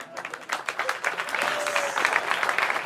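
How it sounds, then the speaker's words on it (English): Applause from a conference audience, a steady wash of clapping that rises slightly and holds at moderate loudness for about three seconds, with no speech over it. "and then you might clap once awkwardly"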